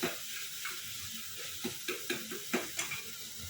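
Onions and tomatoes sautéing in a pan for a simple kurma, a steady soft sizzle broken by several sharper scraping stirs of the spoon, close by with no talk.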